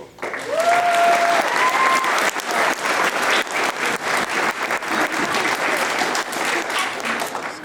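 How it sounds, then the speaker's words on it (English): Loud, sustained clapping from a theater audience at a children's production of Jack and the Beanstalk, a dense wall of applause with a couple of brief whoops near the start, then slowly thinning. "I know we've been doing a lot of clapping."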